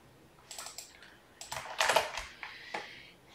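Irregular bursts of keystrokes on a computer keyboard while entering a folder name for an Apple MDM push certificate setup, close and clear, with a louder flurry midway and no talking.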